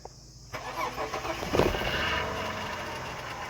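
Ute engine cranks over and fires after a short silence, then settles into a steady idle, heard close up with no talking over it.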